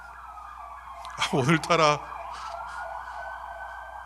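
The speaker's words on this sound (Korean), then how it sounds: "오늘따라 이 주변에 지금 앰뷸런스가 너무 많이 돌아다녀서" Ambulance siren wailing in a busy neighbourhood during a church sermon, rising clearly for about a second with a strong pitched sweep, then fading back into a steady background tone; someone speaks briefly.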